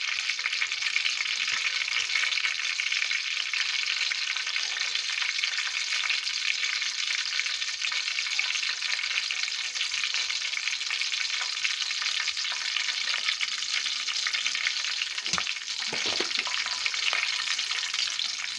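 Loud, steady sizzling of curry leaves frying in hot oil fills the whole stretch, with a brief stir or clatter near the end.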